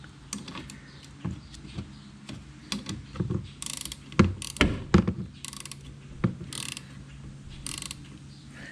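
Ratchet wrench with a 17 mm socket turning the wiper arm nut on a BMW E39 540, heard close up as a run of irregular clicking, creaking ratchet strokes with no speech.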